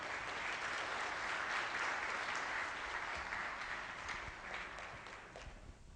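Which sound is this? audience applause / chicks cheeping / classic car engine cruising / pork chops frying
audience applause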